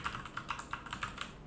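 Quick light keystrokes tap out a short command on a computer keyboard, about a dozen soft clicks in an even rhythm, close and quiet with no talk.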